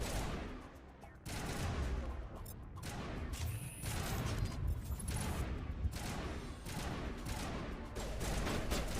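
Gunfire crackles in rapid bursts during a firefight in the video game Mass Effect, loud and near, with crashes over a dense, continuous game mix.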